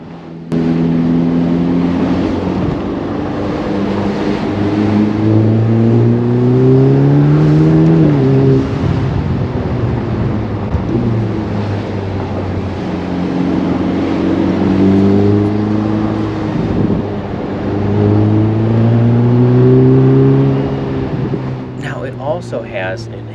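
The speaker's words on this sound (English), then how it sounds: "Also has an enhanced engine note" A 2022 Ferrari Portofino M engine revs loudly and climbs in pitch through repeated acceleration sweeps, close and sustained, with a brief clattering noise near the end.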